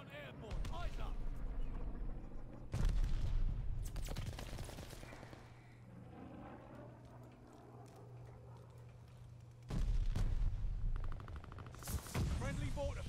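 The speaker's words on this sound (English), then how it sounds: "Friendly mortar fire coming." Mortar fire in Call of Duty Vanguard lands as sharp booming bursts separated by a steady low rumble, with several loud impacts spread across the stretch and a voice talking between them.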